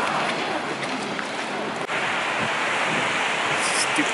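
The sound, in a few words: rain falling on a London street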